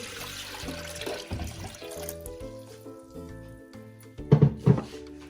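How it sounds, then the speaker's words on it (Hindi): Water is poured into a blender for pink lemonade, a splashing pour with a few thunks toward the end, heard alongside faint background music. "अब पानी डाल देंगे,"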